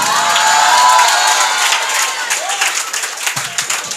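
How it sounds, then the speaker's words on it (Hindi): Audience clapping and cheering at a school Independence Day celebration, a dense, sustained wash of applause with children's shouts and whoops, loud and close throughout and trailing off slightly toward the end. "बहुत अच्छी तालियों से ये जो भी आपने बहुत दिल से बजा रहे हैं"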